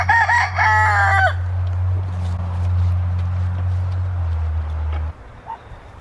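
In a chicken coop, a rooster crows loudly once at the start, followed by quieter soft clucks and rustling under a steady low hum.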